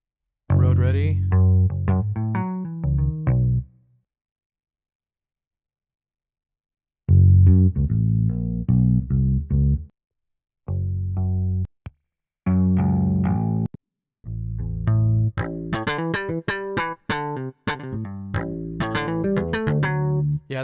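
Slap bass strung with Evolution flatwound strings through a slightly scooped preset, played as short bursts of punchy, popping notes separated by brief silences, loud and up close with no talking.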